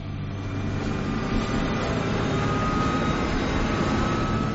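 A Legendary Motorcar SuperCuda accelerates on a speed run with a loud, steady engine roar and wind rush that hold a constant drone for several seconds.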